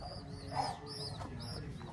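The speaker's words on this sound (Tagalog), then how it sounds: "May mga kalapate." Pigeons coo softly nearby at a building site, a few low rounded calls rising and falling under faint background noise.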